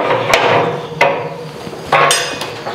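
A mosquito net door for a main doorway being closed, giving several sharp clacks and knocks from the frame spaced irregularly over a few seconds, close and fairly loud.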